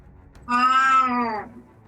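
A cat gives one clear, drawn-out meow lasting about a second, close and loud against a quiet background.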